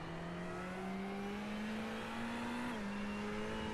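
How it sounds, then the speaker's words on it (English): A Ferrari turbocharged V8 race car in a sim racing game at Daytona holds a high, steady engine whine that rises gradually and then dips as it shifts, with no voices over it. "The high-pitched noise of the Ferrari V8 turbocharged engine."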